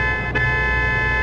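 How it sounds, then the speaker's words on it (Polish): A truck horn in Euro Truck Simulator 2 blares loud and steady, a sustained multi-tone honk that sounds somewhat like a passenger car's, held through the whole moment with no talking. "strasznie mi się ten klakson nie podoba, bo jest taki bardziej jak osobówka"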